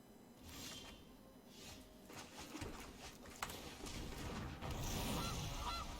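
A goose honks in the video game MTG Arena, a short nasal honk over low game background sound.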